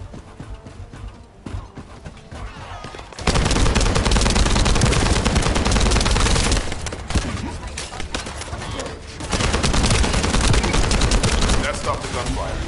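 In The First Descendant, rapid automatic gunfire rattles in two long, dense bursts separated by a short lull, loud and close, with scattered shots before the first burst.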